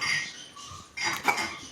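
A metal bowl for drinking pazhankanji is picked up and set down, giving a couple of short bright clinks and scrapes close by, with no voices.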